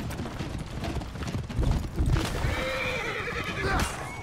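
A horse in the video game For Honor gives a loud whinny over clip-clopping hooves and mechanical clatter from battle, close and prominent.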